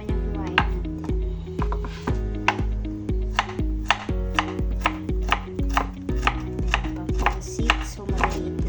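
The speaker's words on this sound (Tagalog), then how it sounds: "Ayan, carrots naman yung hiwain natin." Carrots chopped with a knife on a board for pancit bihon, a quick, steady run of sharp close knocks that keeps up its rhythm throughout, with a low hum underneath.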